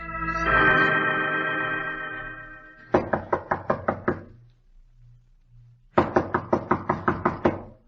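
Knocking at a door in a Sherlock Holmes radio drama: two bursts of about seven sharp, evenly spaced raps, close and loud, following a sustained musical tone, with a short quiet gap between the bursts.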